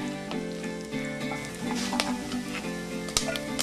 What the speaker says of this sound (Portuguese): Numa panela, frite o bacon até ficar sequinho.